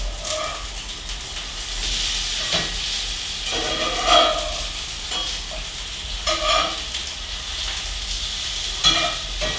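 Salmon cakes fry in a pan with a loud, continuous sizzle and hiss, broken by occasional pops and scraping stirs; nobody speaks.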